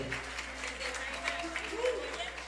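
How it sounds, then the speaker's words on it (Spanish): Audience applause for a harmonica player at a live music venue: a bed of crowd clapping runs throughout while someone talks over it, his voice rising near the end. "Un aplauso para Yotam, la armónica también, por favor"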